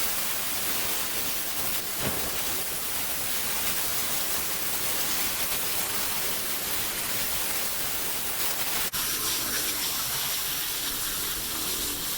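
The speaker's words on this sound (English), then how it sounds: "we'll give it a hose off, wash the sand off it" A hose sprays water to wash sand off a homemade vivarium background, making a loud, continuous broadband hiss for the whole stretch, with a brief shift in tone partway through.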